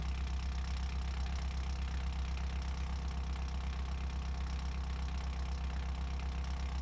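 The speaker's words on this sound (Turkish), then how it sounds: "Arabanın sesi değişiyor egzozu sökünce." Exhaust-less Honda Civic VTEC engine idling in BeamNG.drive, a constant deep throbbing drone with a faint knocking pulse that stays level and unbroken, with no voices.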